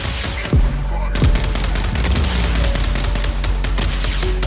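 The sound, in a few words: Viper rockets firing in Mech Arena video game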